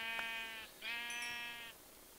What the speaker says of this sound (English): ah, there's sheep